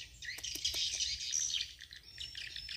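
Swiftlets chirp around a swiftlet bird house, a dense, continuous high twittering of many birds close by, with a few sharper squawks and no talking.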